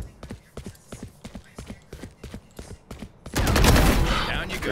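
Rapid gunfire from Valorant, a tight series of about a dozen sharp, evenly spaced shots followed by a louder, dense burst of overlapping fire near the end, all fairly close and without talk.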